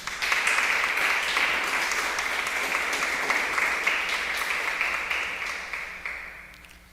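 A congregation in a church claps in praise, a dense, continuous roar of applause that stays steady for several seconds before gradually thinning and fading at the end.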